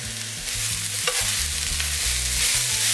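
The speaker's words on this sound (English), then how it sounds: "we're gonna add in those gorgeous, colorful bell peppers" Bell peppers and mushrooms sizzle and crackle steadily in a hot pan, with stirring scrapes and clanks throughout, close and fairly loud, no voices.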